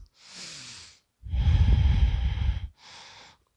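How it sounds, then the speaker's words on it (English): Slow, deep breathing during a morning yoga session: a soft inhale, then a long, heavier, rushing exhale, then another gentle inhale, all close and unaccompanied by talk. "Take some deep conscious breaths"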